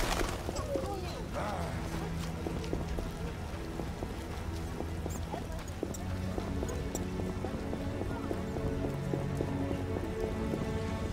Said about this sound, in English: Go ahead and rain.